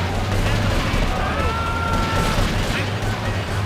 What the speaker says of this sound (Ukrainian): Повсюду там постріли, ще якась фігня.